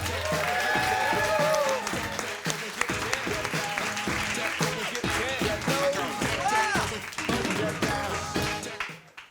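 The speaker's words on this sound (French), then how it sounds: "Mesdames et messieurs, une immense salve d'applaudissements pour Charles Nouveau." A comedy club audience applauds a stand-up comedian as he is introduced, loud dense clapping and crowd noise filling the room before fading out at the end.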